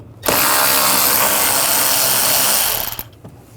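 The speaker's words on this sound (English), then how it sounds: "Using a T25 socket, we're going to take these screws out." A ratchet fitted with a T25 socket spins out airbox screws on a 2009-2017 Volkswagen Tiguan 2.0L, giving a loud, close, continuous whirring burst of about three seconds before stopping abruptly.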